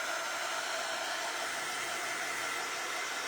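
A hair dryer blows steadily on an air-dry clay envelope, a constant close whooshing roar with no pauses.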